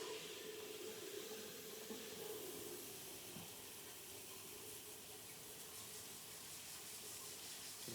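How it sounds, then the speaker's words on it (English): Tap water running steadily into a sink as it warms up for hair washing, a constant hiss and splash close by, with no talking. "I'm gonna turn the water on."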